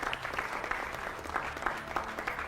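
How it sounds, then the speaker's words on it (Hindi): Applause welcomes defence expert Colonel Danveer Singh joining a televised debate panel, a steady moderate clapping texture from a studio audience running the whole time, fairly quiet and slightly distant. "जोरदार तालियों से इनका भी स्वागत।"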